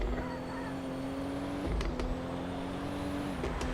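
Car engine in the video game Used Cars Simulator, revving steadily with a throaty, rising drone; the pitch climbs, drops sharply around the middle, then climbs again, with brief clicks over a steady hum.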